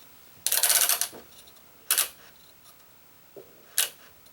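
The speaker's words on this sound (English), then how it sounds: "Then I'm going to clamp or tension my second cross." Clamp on a Gamma X-2 stringing machine tensioning a cross string, heard as three sharp mechanical clacks and snaps spaced about a second and a half apart, close and clear in a quiet room.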